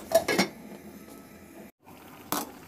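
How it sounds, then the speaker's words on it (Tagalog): Sweet potatoes go into a cooking pot with water, giving a few short clattering knocks and clinks of pot and contents at the start and again near the end, fairly close with quiet gaps between. "Ilagay ko lang yan sa kaldero yung kamote at lagyan ko na rin ng tubig"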